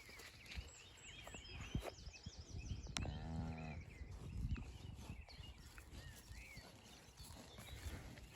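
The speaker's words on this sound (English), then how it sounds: "Happy cows." Cows in a permanent pasture give one clear, drawn-out moo near the middle, with birdsong and outdoor ambience around it and occasional soft thumps and movement.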